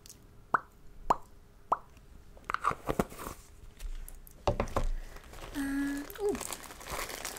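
An old muesli bar wrapper crinkles as it is pulled from the bottom of a bag: close, intermittent rustles, soft taps and plops in short bursts.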